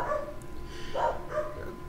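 A dog barks somewhere in a house, three or four muffled, mid-distance barks spaced across two seconds over a faint background hum.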